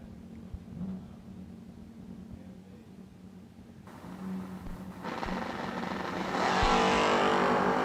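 Drag race cars, including a Camaro, run at World Wide Technology Raceway in a loud, steady engine drone that swells and brightens toward the end as a car launches and accelerates.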